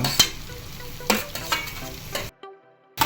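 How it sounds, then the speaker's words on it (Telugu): Onions frying in a kadai, stirred with sharp scraping clatters over a steady sizzle; the cooking noise then drops away to near silence at the end. "ఇదిగోండి ఆనియన్స్ కళాయిలో వేసాం దానిలో వేగి వేగిస్తున్నాం"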